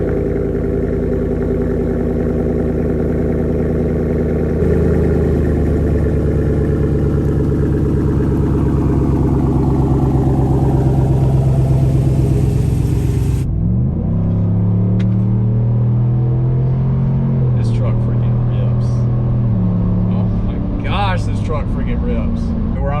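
A V8 truck fitted with a Pulsar LT module runs with a deep, loud rumble, its engine tone sweeping through revs and shifting pitch as it drives, steady and close throughout.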